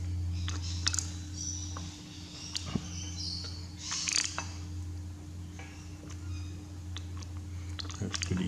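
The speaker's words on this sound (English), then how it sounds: "You can hear the birds outside at the moment." Outdoor birds chirp faintly in the background, scattered brief tweets over a steady low indoor hum with occasional soft clicks nearby.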